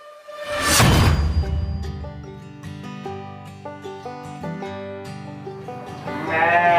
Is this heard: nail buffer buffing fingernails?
no